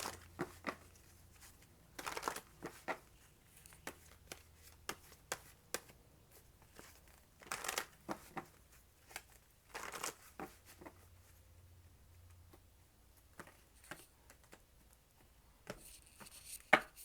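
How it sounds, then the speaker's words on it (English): A deck of tarot cards is shuffled by hand in bursts of crisp riffling and tapping, separated by quiet gaps, close to the listener with no talking. "So I'm shuffling again"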